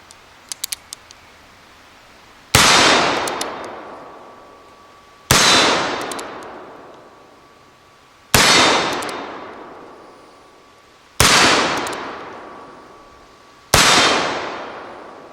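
Five loud, booming gunshots from a Uberti replica of a Remington Model 1890 revolver at a shooting range, spaced about three seconds apart, each with a long ringing decay, after a few faint clicks.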